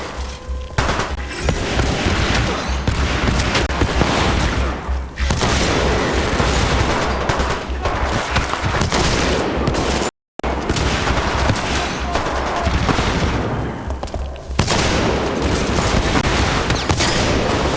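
Sustained, dense automatic gunfire from enemy fire in a combat video game, loud and continuous with bursts of booms, briefly cutting out midway before resuming just as heavy.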